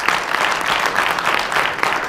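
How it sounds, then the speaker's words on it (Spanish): A congregation applauds during a Spanish-language church sermon, a steady, dense wash of clapping from many hands that holds at full strength throughout, close and loud with no talking over it. "Denle un fuerte aplauso al Señor por lo que Dios te está hablando."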